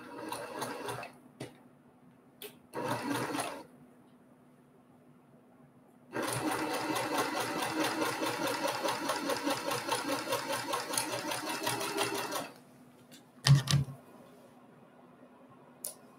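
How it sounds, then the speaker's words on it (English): A sewing machine stitches quilt block pieces in short runs and then one long steady burst of about six seconds, a close whirring hum with fast needle chatter, separated by quiet pauses. "And now I'm going to sew that on my machine."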